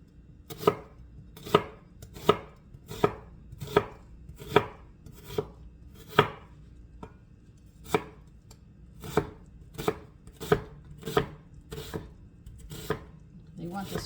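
A knife finely chopping onion on a cutting board gives a steady run of sharp, close knocks, evenly spaced at about one a second with a few brief pauses.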